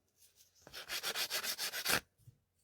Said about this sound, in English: brush over it with your nail file or sanding block